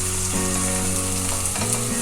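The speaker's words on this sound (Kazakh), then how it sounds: "Рассольниктің енді зажаркасын жасаймыз" A zazharka base for rassolnik soup fries in a pan with a loud, continuous sizzle and crackle throughout, over a faint tonal background, with no talking.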